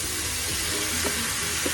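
Pork spare ribs fry in a small pan with a steady, dense sizzle and a few faint pops. The sound is close and continuous, with no one speaking.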